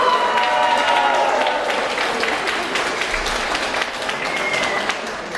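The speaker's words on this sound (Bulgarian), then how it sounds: "аплодисменти за Крум" A New Year party crowd claps for Krum, a young participant dressed as a pirate. Sustained, moderately loud applause with crisp individual claps runs throughout, with faint voices mixed in.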